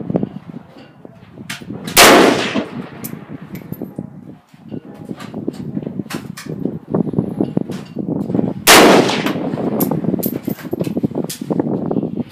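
Two loud gunshots from a Yugoslavian SKS M59/66 rifle fired outdoors, the first near two seconds and the second near nine, each a sharp crack followed by a decaying echo over a steady background rumble.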